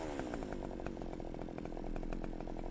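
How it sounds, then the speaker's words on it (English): A chainsaw idles and revs in a horror video game, a steady buzzing drone with rhythmic pulsing chatter that runs throughout at moderate, slightly distant loudness, with no voices. "that's just a chainsaw on the floor"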